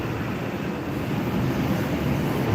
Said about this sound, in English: Jet 2 just taxiing along.